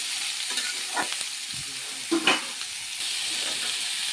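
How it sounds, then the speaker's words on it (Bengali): Potato and young jackfruit fry together in a pan with a steady sizzle, broken by occasional scraping stirs and clinks of a utensil against the pan. "আলু আর ইঁচড় একসঙ্গে ভাজবো, একটু ভালো করে ভাজবো আলু আর ইঁচড় একসঙ্গে।"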